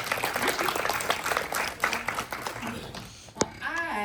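An audience at a stage event with four political candidates applauds, dense steady clapping under a crowd murmur that fades as a voice starts speaking near the end.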